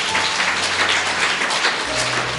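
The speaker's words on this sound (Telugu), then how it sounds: "చప్పట్లు కొడదాం." A church congregation applauds together, a dense, even burst of many hands clapping that stays loud from start to finish.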